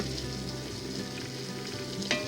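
Vegetables simmering with soy sauce in a pot are stirred with a soft, continuous bubbling sizzle and a brief scrape near the end, heard alone without talk.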